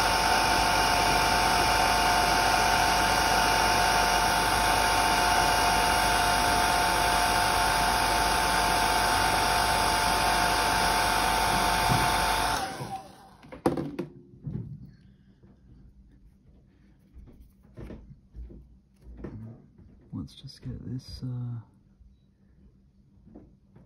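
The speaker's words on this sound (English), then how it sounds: "and I'll dry off with a hairdryer." A hair dryer drying paint on a miniature blows a steady, loud whooshing roar for about twelve seconds, then cuts off, leaving quiet handling noises and faint movement.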